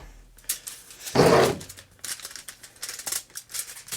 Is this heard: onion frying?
no